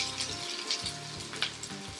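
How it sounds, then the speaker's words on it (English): Onion and bacon frying together in a pan for Korean potato and vegetable home fries, a steady close crackling sizzle that runs throughout with a few louder spits and scraping stir sounds. "let's start to fry the ingredients that really give us the most flavor"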